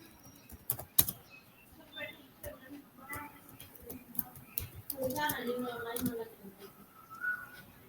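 Keys clatter on a computer keyboard as a paragraph is typed, in uneven bursts of soft clicks with a few sharper taps, while a person hums and murmurs in the background.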